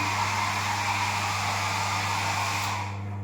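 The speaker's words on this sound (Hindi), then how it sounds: "एक हेयर ड्रायर" A hair dryer runs steadily in a hotel washroom, a loud continuous whirring blow with a low motor hum, easing off slightly near the end; no one speaks.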